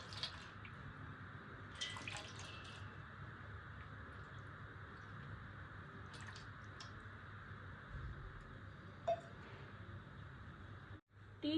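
Water trickles and drips steadily while bathing a brass deity idol, a soft continuous splashing with a few brief louder drops, close and fairly quiet.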